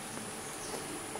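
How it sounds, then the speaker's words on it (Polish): Faint, steady buzzing of small stingless Melipona bees hovering nearby, continuous and quiet for a brief moment. "Małe pszczółki próbują się dobrać do mnie."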